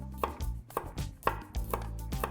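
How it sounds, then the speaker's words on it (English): A kitchen knife cuts garlic into slices on a cutting board, giving five sharp, close chops at a steady, unhurried rhythm with nobody talking. "So for the garlic, we want to keep it sliced."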